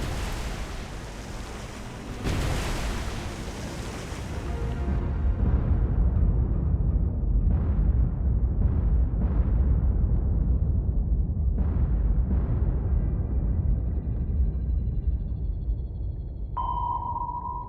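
Naval gunfire and explosions in the video game War on the Sea, heavy booming blasts and a deep rumbling roar that swells and lingers, with scattered later impacts and a sonar-like ping near the end.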